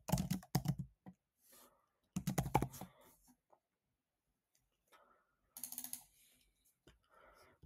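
Short bursts of clicking keystrokes on a computer keyboard, someone typing a message in a few quick runs separated by pauses, fairly close and moderately loud, with faint background sounds in the gaps.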